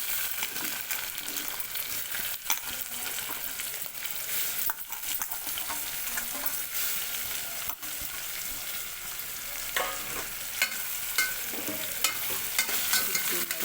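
Boiled cluster bean pieces with onions fry in a pan, giving a continuous close hiss and sizzle with faint stirring scrapes throughout and no speech.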